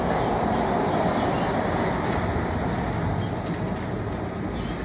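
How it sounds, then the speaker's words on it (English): A subway train runs steadily, heard from the front driver's cab: a loud, continuous rumble of wheels on rail with a broad rushing roar, faint higher rattles, no voices. "I'm at the front of the subway train."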